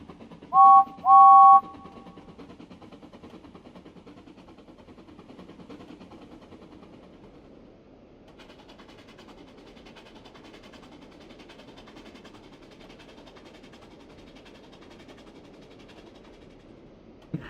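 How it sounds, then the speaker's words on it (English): A low steady rumble of a steam goods train rolling along, two short whistle-like toots at the start, then a continuous mechanical drone with faint rattling. "Then James rattled through with the goods train."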